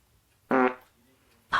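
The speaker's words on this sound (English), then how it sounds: "Here comes a small fart." A small fart sound effect played by an Alexa smart speaker: one short, buzzy, tonal burst of about a fifth of a second, a faint trailing tail, and the start of another sound cut off at the end.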